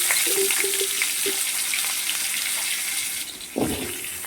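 Cut potatoes dropped into hot leftover fish-frying oil in a pan, a steady loud sizzle with a few clinks and a thump near the end.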